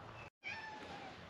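A house cat meows a few times at close range, with a short silent break partway through.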